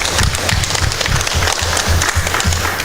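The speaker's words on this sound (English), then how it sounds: "So let's give him a round of applause for that." Audience applauding at a housing and local government discussion, a dense burst of clapping from a crowd, loud and sustained for a few seconds.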